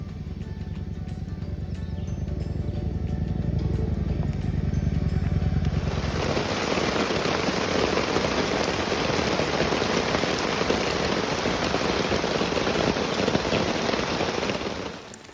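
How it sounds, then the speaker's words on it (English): Heavy rain pours onto a muddy campsite with wet tents, bikes and a fire pit, a loud dense hiss that swells sharply partway through and stays steady to the end, with no talking. "Raining pretty hard."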